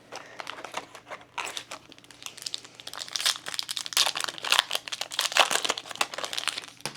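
Disney Lorcana Archazia booster card packs being torn open, a run of crisp foil crinkling and ripping bursts in quick irregular succession, close and fairly quiet, with no talking.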